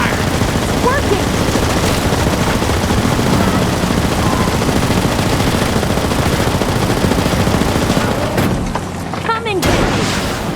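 Dense, loud gunfire and heavy booms pile up continuously in a Metal Gear Solid Delta Snake Eater final-level battle, the barrage thinning briefly near the end, with voices shouting through it.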